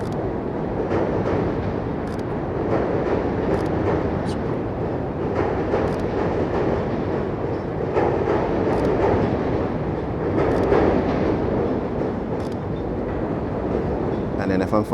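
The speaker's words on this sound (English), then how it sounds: "We'll capture this train as well." A train passes in an urban setting, a continuous loud rumble with rhythmic rail clatter that swells and eases over about fifteen seconds. No one speaks.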